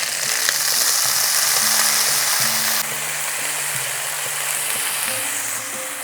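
Rice sizzles in a pan with ginger-garlic paste and a yogurt mixture, a constant loud frying hiss with faint scraping. Background music plays underneath.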